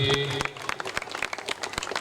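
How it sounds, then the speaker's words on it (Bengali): Applause rises from the audience at a Chhath Puja stage event, a brisk run of dense, overlapping claps heard close, with voices mixed in. "এই মুহূর্তে করতালি দিয়ে"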